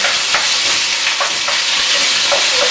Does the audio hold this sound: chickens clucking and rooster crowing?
no